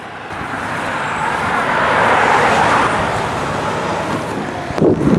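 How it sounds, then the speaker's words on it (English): A truck passes on a road near a police DUI checkpoint, a loud, broad rumble with road noise that swells to a peak and then gradually eases, with a brief knock near the end. "This truck just turned around too, to avoid this checkpoint."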